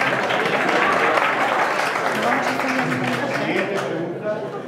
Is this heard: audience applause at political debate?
yes